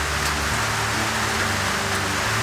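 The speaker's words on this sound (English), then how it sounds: "we can lull you to sleep with the rain on the roof." Steady rain drums on a metal lean-to roof, a dense, even hiss heard close by with a low hum underneath and no talking.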